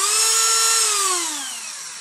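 A variable-speed cordless Dremel rotary tool runs on aluminum during a 4x4 hub rebuild, a close, high whining spin that holds steady and then drops in pitch as it slows near the end.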